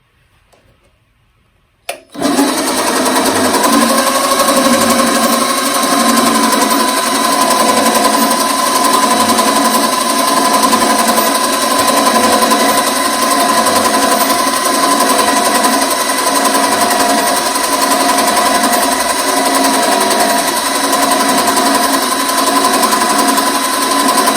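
A Vevor 8x14 mini lathe (650 W, 2250 rpm) machining a bicycle kickstand rod starts abruptly after a quiet moment, then runs with a loud, steady mechanical whine and hum that continues unbroken.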